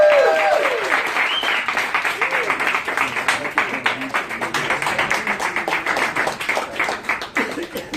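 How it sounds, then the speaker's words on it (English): An audience at a network marketing event for InCruises gives a big round of applause, loud, dense clapping sustained for several seconds while voices call out and whoop over it. "how about a big round of applause?"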